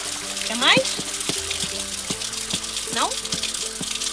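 Water poured and splashing at a schist village in Portugal, with trickling and gurgling bursts under nearby voices and background clatter.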